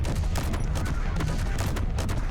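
A rapid string of gunfire-like cannon shots in the Space Engineers video game, dense repeated bursts over a steady loud background with no voices.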